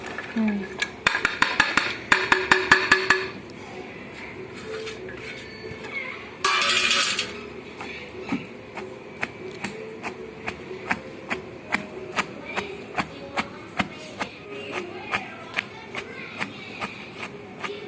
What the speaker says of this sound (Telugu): ఇప్పుడు దీంట్లో ఈ మాడు ముక్కలు వేసుకొని దంచుకోవాలి